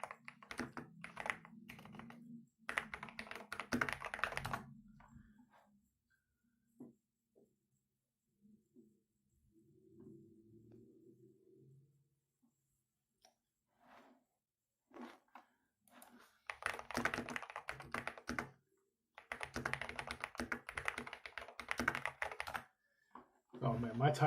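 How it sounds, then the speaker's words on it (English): Computer keyboard typing during a football watch-along livestream, clicking bursts near and fairly quiet, separated by pauses, with a voice speaking softly between them. "my typing is so bad."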